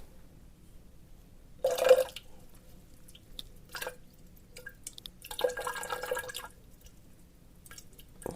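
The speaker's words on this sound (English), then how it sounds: "here's some more water to add." Warm water is poured in small splashes into a bowl for homemade vegan pizza dough, with a louder pour near the start and a longer trickle later, quiet and close between soft drips.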